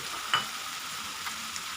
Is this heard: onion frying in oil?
yes